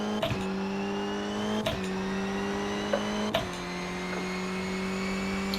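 A Rally2 car engine in WRC Generations, driven on tarmac and gravel stages, revs hard through rising gear pulls, with sharp shift breaks about every one and a half seconds and a steady buzzing drone.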